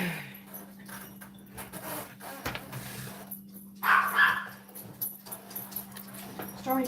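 A dog indoors, pacing back and forth, gives a couple of short barks and whimpers amid a steady background hum, fairly close.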